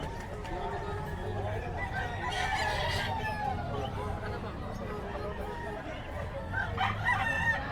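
Roosters crowing among clucking chickens at a busy Friday pet market in Bocaue, with overlapping calls under steady crowd chatter and people talking nearby.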